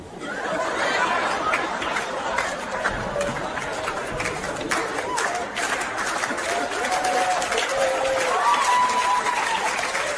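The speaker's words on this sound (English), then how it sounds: "That is the definition of a slow roll clap." An audience breaks into slow, scattered clapping that builds into applause, mixed with murmured chatter and bits of laughter throughout.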